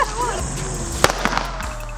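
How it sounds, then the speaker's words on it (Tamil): A single Lakshmi firecracker bursts in a sharp crack at a family festival celebration, set against outdoor background noise. "ஒரே ஒரு பட்டாசு, லட்சுமி பட்டாசு, அதுக்கு இவ்வளவு பில்டப்."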